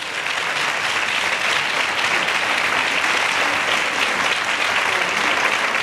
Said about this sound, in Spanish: a quienes recibimos con un fuerte aplauso